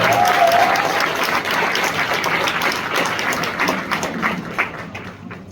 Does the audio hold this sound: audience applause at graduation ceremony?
yes